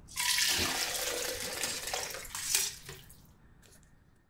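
Chicken broth is strained, pouring and splashing briefly into a container, a bright watery rush that tapers off into a few trickles and drips.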